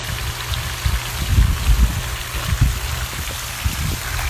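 Wild water rushing steadily in a broad, continuous wash with low churning surges, fairly close and fairly loud, with no voices over it.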